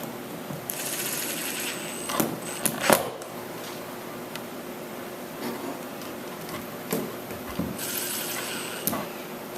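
Screws being driven into the bottom of a 1938 Chris Craft Custom Runabout during a 5200 bottom install, heard as a few short bursts of power-driver whine with scattered clicks and knocks over steady workshop hiss.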